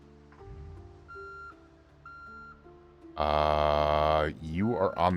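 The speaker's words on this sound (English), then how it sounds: "this thing is going to make beeping noises as I back up" A vehicle in the Project Zomboid video game sounds steady, evenly spaced reversing beeps over a low engine idle, then the engine revs loudly and roughly before dropping and surging again.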